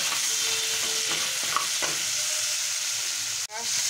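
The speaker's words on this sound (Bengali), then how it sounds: "দিয়ে আমি কাঁকড়াটাকে ভেজে উঠিয়ে নেব।" Crab frying in a pan with a little salt, giving a steady close sizzle and hiss throughout, with a few soft stirring scrapes and a brief clatter near the end.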